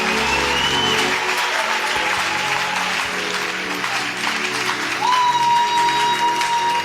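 A church congregation applauding the Lord during a worship service, sustained dense clapping from a large crowd with a steady tone sounding underneath throughout.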